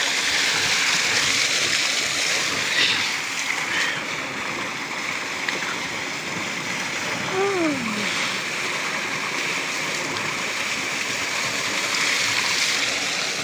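Water pouring steadily from a pump motor's outlet into a backyard swimming pool, a continuous close splashing rush with no talk over it, while a faint whistle-like tone slides down briefly midway.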